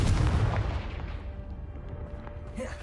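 A fiery Confringo spell blast in a Harry Potter video game erupts as a loud, deep boom right at the start, then rumbles and decays slowly into a lingering low tail.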